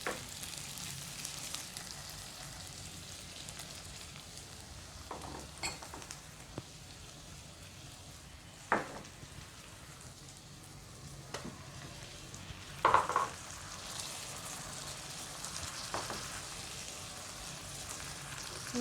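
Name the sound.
onions and spices frying in a pan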